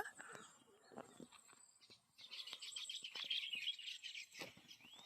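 Faint high bird chirps repeating as birds fly overhead, over quiet outdoor ambience in a farm field, with soft rustling and light handling noises nearby.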